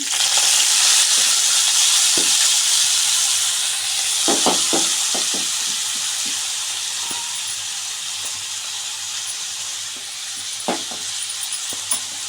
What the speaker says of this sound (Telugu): ఇప్పుడైతే కొత్తిమీర వేపేసుకుందాము దీంట్లోని.